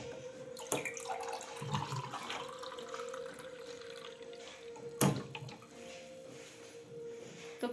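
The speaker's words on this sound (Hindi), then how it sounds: "तो मैं यहाँ पे कर रही हूँ गर्म पानी" Hot water running from a kitchen tap in a home, a steady stream with a couple of sharp clanks of a vessel partway through, no voices.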